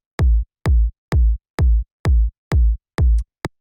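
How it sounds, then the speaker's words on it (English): A deep, punchy 808-style kick drum for a techno track, struck seven times at an even, steady pulse with a short clipped hit at the end, loud and dry with nothing else playing. "it's this very deep, kind of like punchy 808 style kick"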